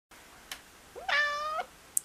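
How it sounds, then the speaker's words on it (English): A cat meows once, a clear, fairly close rising-and-falling call of about half a second, with a faint click before it and a sharp tick just after, in an otherwise quiet setting. "Check this ugly ass cat."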